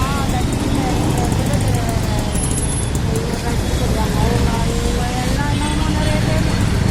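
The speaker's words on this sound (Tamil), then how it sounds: "ஒரே வெஹிக்கிள் டிராஃபிக் ஜாம்" Dense road traffic jams Pallavan Salai, with a loud steady rumble of engines, horns and passing vehicles, and a voice talking over the din.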